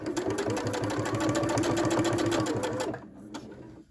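A sewing machine runs steadily and loud for almost three seconds, stitching aligned fabric edges for XXL scrunchies, then stops, leaving a short quieter stretch with a few light clicks.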